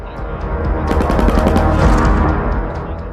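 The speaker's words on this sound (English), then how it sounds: "The M249 is a light machine gun used by infantry units to provide sustained fire in small units." M249 light machine gun firing sustained automatic bursts in the video game Eagle Wrath 19, rapid repeated shots with a dense, loud roar in the middle and quieter rattling at the edges.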